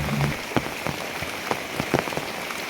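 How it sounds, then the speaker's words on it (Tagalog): Heavy rain drumming on a roof in Mindanao, a dense steady hiss punctuated by irregular louder drops and taps, close and continuous with no talking. "kusog kayo ang ulan"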